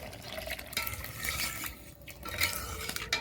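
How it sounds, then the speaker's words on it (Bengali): Water is poured into a pot of cooking mung dal with fish head, a soft close splashing and trickling with small drips, fairly quiet throughout. "এখন একটু জল দেব জল"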